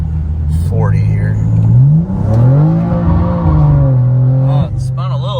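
Rear-wheel-drive 800hp BMW M2 on drag radials accelerating hard from a roll, heard from inside the cabin: loud engine drone rising through the gears with brief wheelspin, while someone talks over it.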